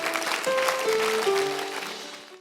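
Church audience applause, a close crowd of clapping hands that swells briefly and then fades out toward the end, with some voices underneath.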